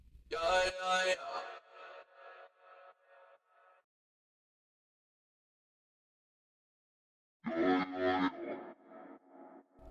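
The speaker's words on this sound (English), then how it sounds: "Here I'm going to pitch this vocal sample down an octave by reducing its pitch shift value by 12." Vocal sample pitched down an octave in BandLab's web studio, two deep, slowed phrases with a faint echo trailing off, separated by several seconds of silence.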